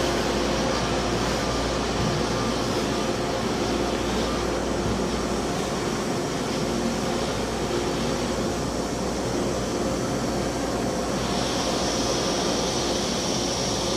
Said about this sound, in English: Let's go take a view of the upper section of the engine room.